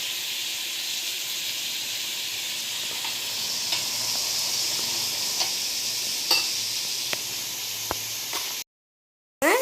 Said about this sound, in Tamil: பூண்டு அண்ட் கருவேப்பிலை மிக்ஸ் பண்ணி விட்டுக்கோங்க